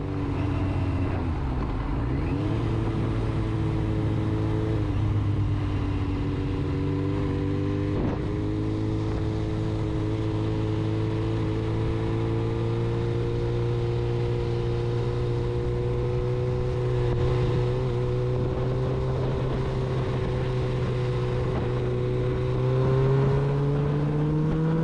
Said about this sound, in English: let you listen to it accelerate